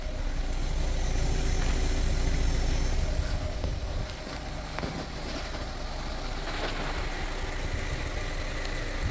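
The engine of a Ram 700 pickup runs loud and steady throughout, a constant close rumbling drone with no break.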